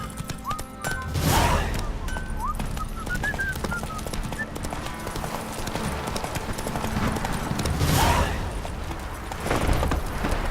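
Roach, a horse in The Witcher 3: Wild Hunt, gallops with steady, loud clip-clop hoofbeats throughout, broken by a couple of brief whinnies and a whistle amid continuous game ambience.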